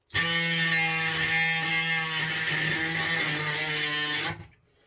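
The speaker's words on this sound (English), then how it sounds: "It's an oscillating tool, so you can stick this up underneath here and cut these screws from underneath." An oscillating multi-tool cuts through screws from underneath, a loud, close, steady high-pitched buzzing whine that holds for about four seconds before stopping abruptly.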